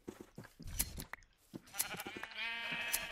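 Sheep in the Minecraft video game bleating, several short close bleats in quick succession followed by a longer wavering one, with shuffling clicks between them.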